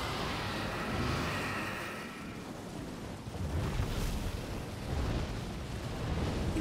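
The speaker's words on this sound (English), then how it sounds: "Who dared fire breath me?" A dragon's fire-breath attack in a fantasy video game roars as a sustained, rumbling whoosh of flame, swelling and fading in several broad waves.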